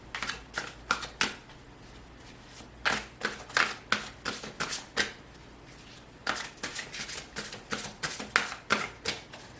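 Tarot cards being shuffled for an Aquarius reading, a run of quick crisp riffling bursts in irregular clusters with short pauses between, close and fairly quiet, no voices.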